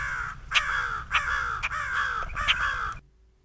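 Crows cawing outdoors, four or five harsh caws in an uneven rhythm at moderate distance, then falling quiet.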